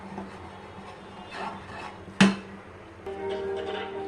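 Semolina poured into sweetened milk in a home kitchen pot for barfi, giving a soft granular rasping rub with one sharp clink partway through, then a steady faint hum; no talking.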